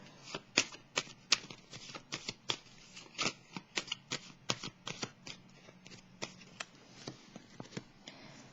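Tarot cards are shuffled close up in a quiet room, a rapid run of crisp riffling flicks and slaps in uneven bursts, with no voices.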